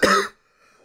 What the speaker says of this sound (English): No medicine, non-stop coughing.